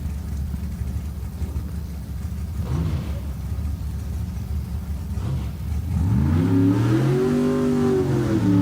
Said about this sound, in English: It's good compressed air supercharged top sportsman.